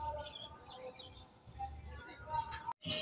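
Birds, including a pigeon among racing pigeons, give soft chirps and tweets close by, mixed with faint low coos and murmuring voices, then cut off briefly near the end.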